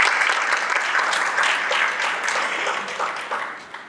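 Audience at a statesmanship awards ceremony applauding an executive committee and board of directors, a dense, steady round of clapping that tapers slightly toward the end.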